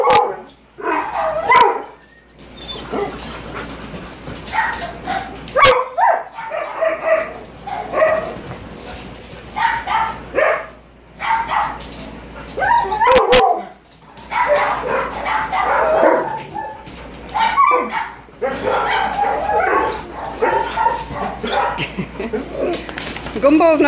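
Several large dogs bark, yip and whimper repeatedly in a house full of dogs, the barking loud and close, coming in bursts with short pauses, while a person talks at times.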